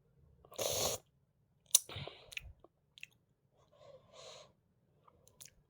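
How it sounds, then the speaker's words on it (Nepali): Someone chews dhido, a thick Nepali porridge, close to the mic: a few separate soft wet bites and mouth sounds with quiet gaps between them. "ढिँडो खाँदैछु"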